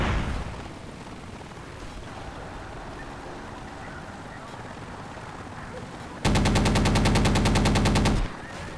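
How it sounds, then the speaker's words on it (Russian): Machine gun fire in the military shooter Project Reality, a loud, continuous rapid burst of about two seconds cutting in after a quiet stretch of engine drone and distant combat, with radio chatter faintly heard. "По нам пулемет валит"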